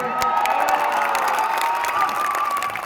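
An election rally crowd applauds and cheers steadily throughout, with dense clapping and shouts of a large gathering close by and no talk over it.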